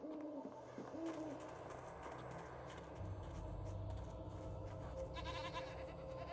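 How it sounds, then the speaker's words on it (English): Goats bleating in Jade Empire, with a few short bleats over a steady game ambience and a low rumble that swells partway through. "Hello, goats."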